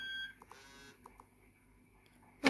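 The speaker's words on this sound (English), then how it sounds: "Oh, that stupid alarm." An alarm goes off in a bedroom with a few short electronic beeps at moderate level, spaced irregularly across the moment with quiet room tone between them.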